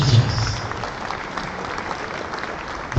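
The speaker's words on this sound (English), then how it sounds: "Clap for the teachers." Audience applause for teachers at a secondary school annual general meeting, a steady wash of hand claps held at moderate level throughout, with a faint murmur of crowd beneath.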